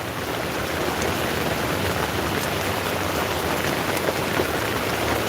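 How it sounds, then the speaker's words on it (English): Dense, steady patter of rain falling on a makeshift outdoor shelter roof in windy weather, close and continuous with no voices. "Raindrops are falling on my head."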